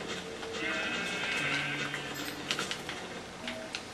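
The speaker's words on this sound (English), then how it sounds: "I found sheep and a cow and a lot more sheep." Sheep bleating in Minecraft (Xbox 360 Edition), a steady layered wavering call with some faint tapping clicks near the end, fairly quiet, with no talking.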